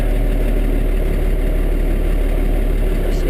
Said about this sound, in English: So get the generator fired up so I can pump it.